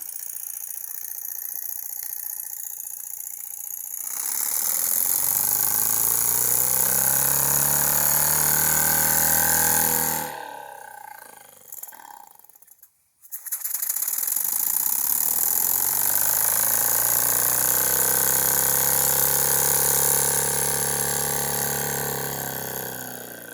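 A Jensen live steam engine with a heavy flywheel runs in a steady, dense mechanical whir close by, briefly cutting out near the middle before resuming at full level, with no talk over it.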